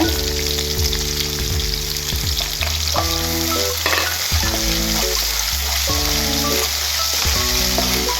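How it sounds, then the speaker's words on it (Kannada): Curry leaves and ginger garlic paste fry in a pan for pepper chicken, a loud continuous sizzle with crackling spatter. Intermittent scraping and stirring clatter sits up close, and no one speaks. "ಸ್ವಲ್ಪ ಹಸಿ ವಾಸನೆ ಹೋಗೋ ತನಕ ಫ್ರೈ ಮಾಡಬೇಕು"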